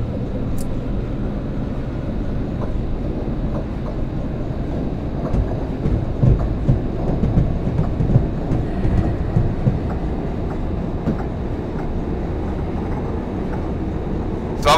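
Steady rumbling of a freight train hauled by a BR151 electric locomotive, heard from on board, with continuous low wheel and rail noise and faint clicks throughout, fairly loud and unbroken.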